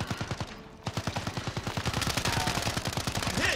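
Rapid automatic gunfire rattles in a long, even burst in Call of Duty: Modern Warfare, the shots coming fast and loud after a brief lull, with no talk over them.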